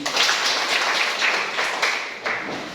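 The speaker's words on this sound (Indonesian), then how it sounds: "Oke, tepuk tangan." A group claps hands together in a classroom, a brief dense patter of close applause-like claps at steady loudness.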